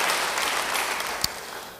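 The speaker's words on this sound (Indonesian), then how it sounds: "Beri tepuk tangan bagi Dia." Congregation applause during a church service, a steady wash of clapping at moderate distance that fills the space and fades slightly toward the end.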